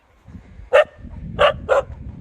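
Dogs bark outdoors in the snow, three sharp, loud barks close by, one followed after a pause by two in quick succession, over low rustling background noise.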